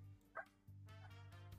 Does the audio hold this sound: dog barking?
yes